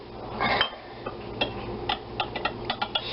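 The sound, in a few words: whisking milk mixture with a small whisk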